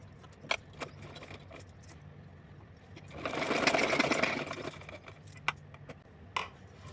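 A sewing machine stitches the side seam of a small nighty for a Kanha ji idol, a steady mechanical whir that builds in the middle and then fades, with scattered light clicks and handling knocks around it.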